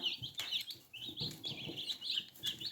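Young Spanish-breed chicks cluck and chirp in a steady, busy chatter, close by and fairly quiet, with no voices over them.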